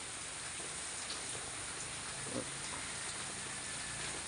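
Heavy typhoon rainfall, a steady dense hiss of rain pouring down continuously at moderate distance, with no talk over it.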